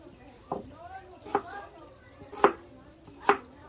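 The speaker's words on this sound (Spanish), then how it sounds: "vamos a partir también un pedazo de cebolla" A knife chops an onion on a cutting board, giving four distinct, evenly spaced chops, each louder than the last, while a person talks over them.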